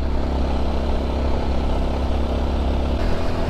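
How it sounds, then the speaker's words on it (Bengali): A motorcycle engine under full load grinds steadily up a steep hill road between Bandarban and Nilgiri, a loud, unbroken low drone close by. "ইঞ্জিনে ফুল লোড দিতে আছি,"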